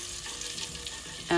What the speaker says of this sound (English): Just given some time for the fennel seeds to roast a little bit there in the ghee.